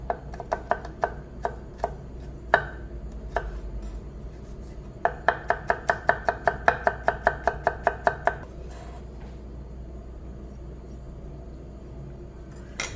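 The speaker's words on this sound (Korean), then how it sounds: "마늘 다져서 넣어주도록 할게요" A knife chops garlic rapidly on a cutting board, with sharp distinct knocks: a few scattered strikes first, then a fast even run of chops, then silence.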